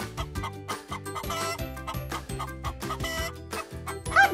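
Close, loud hen clucking: a quick rhythmic string of short, throaty clucks in repeated bursts, with no talk over it.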